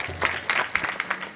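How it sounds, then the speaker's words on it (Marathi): Audience applause at a Marathi devotional kirtan gathering, heard as a quick series of sharp, evenly spaced bursts of clapping over a faint low steady hum. "त्यांच्यासाठी सुद्धा एकदा टाळ्या वाजवा"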